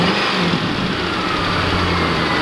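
A Ford Mustang GT, a cheap worn car just brought back to life, runs close by with a loud, steady engine drone that swells slightly, with no one speaking.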